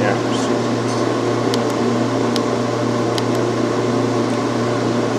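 A homemade box fan's motor runs at full power, drawing about 300 watts, with a loud steady hum and whoosh of air that holds constant and is broken by a few light clicks.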